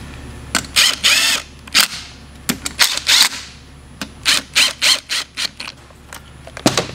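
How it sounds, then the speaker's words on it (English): Impact wrench run at a low setting to snug bolts on a Duramax Allison 1000 transmission during a rebuild, firing in a series of loud, close rattling bursts of varying length over a steady low hum. "We're going to run the impact down very low because we're going to torque these."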